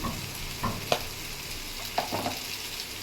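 Tomatoes with a pinch of turmeric and a little chili powder get stirred in a pan, with soft scrapes and clinks over a low, steady background hum.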